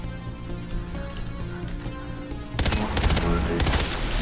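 Automatic rifle gunfire in the shooter Far Cry 3 Blood Dragon, a loud rapid burst of shots erupting after a stretch of game ambience and continuing through the final seconds.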